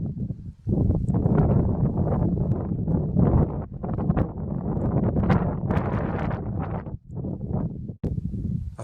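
Mountain wind on Paiute Peak in the Indian Peaks Wilderness buffets the microphone in loud, gusting rumbles that rise and drop, with a couple of brief lulls.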